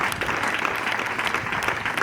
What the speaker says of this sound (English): Let's clap for those who made him be what he is.